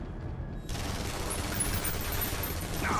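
Sustained gunfire from a firefight in X-Men Origins Wolverine, a dense rattling burst of shots that starts suddenly and keeps going loud and steady, with no voices over it.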